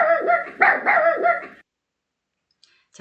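Dog barking sound effect in a block-coding program: a burst of several quick yips and barks, loud and close, followed by near silence with a faint click at the end.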